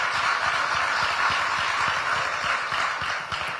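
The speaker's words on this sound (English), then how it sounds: "Please join me in a round of applause for the governor." Steady applause from an event audience at a Chamber of Commerce fireside chat honoring the governor, a dense wash of many hands clapping continuously without a break.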